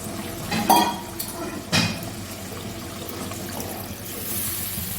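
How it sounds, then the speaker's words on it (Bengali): Spice water and a little extra water tipped from a mixer jar into a pan for a katla fish curry with drumstick and potato, giving a couple of short splashing pours and clinks near the start, then a quiet trickle. "দিয়ে দিলাম মশলার জলটা মিক্সিতে মশলা মশলার জল আর একটু জল দেবো"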